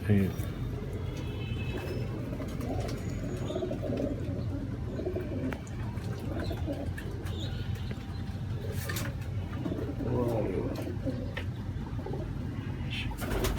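A pigeon coos repeatedly close by while a female bird is displayed, the soft throaty calls mixed in with nearby chatter and other small movement sounds.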